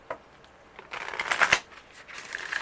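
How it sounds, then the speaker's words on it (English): Oracle cards shuffled by hand during a Pisces tarot-style reading, a soft papery riffling and sliding that builds into a denser burst of flicking cards, then trails off into lighter shuffling, close and fairly quiet. "Try and make sure I shuffle everything on camera for you"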